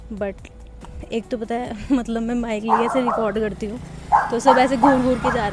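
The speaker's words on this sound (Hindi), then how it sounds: "ये कुत्ता भौंक रहा है" A dog barks repeatedly outdoors, following behind a woman as she walks; she talks continuously and the barks sit under her voice.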